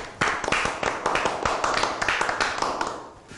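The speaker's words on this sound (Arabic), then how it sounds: "صفقوا عليه" A small group claps to welcome a new worker at a clinic, a brisk burst of hand claps starting sharply and thinning out over a few seconds, close and loud, with no talk.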